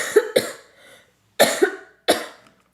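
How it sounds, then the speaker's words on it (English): A person coughs while painting abstract art: two quick coughs, a pause, then two more close together and a final single cough, loud and near with no talking. "I'm just gonna do a quick cough"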